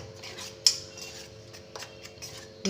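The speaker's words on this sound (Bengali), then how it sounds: "শুকনো উপকরণগুলো আগে নুন দিয়ে মিশিয়ে নেব" Dry ingredients and salt being mixed in a bowl with a utensil, giving a quiet scraping with a couple of light clinks against the bowl, close and alone.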